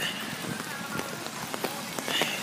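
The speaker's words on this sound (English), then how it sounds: "it's been raining quite a bit" Rain falling on a rainy day, a steady patter of drops striking surfaces close by, with a few sharper taps breaking through the continuous wash.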